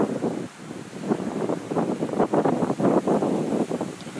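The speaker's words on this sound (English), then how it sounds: "There's a decent gust coming through now." Gusty wind sweeping past a small Savonius vertical-axis wind turbine outdoors, a steady broadband roar that swells and surges in several strong pulses over a few seconds, with no talking.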